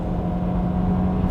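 A compact car's 1.4-litre or 1.6-litre turbo engine revs hard under full throttle toward about 5,800 RPM, a loud, steady droning roar that rises slightly toward the end.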